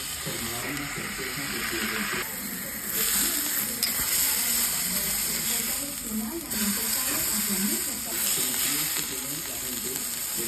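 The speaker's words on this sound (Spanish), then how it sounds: "ponemos un poquito de aceite en un sartén, lo esparcimos bien y aquí ponemos nuestro filete" A salted beef steak, bola negra cut, sizzles steadily in a lightly oiled frying pan, a continuous loud hiss and crackle with faint scraping noises.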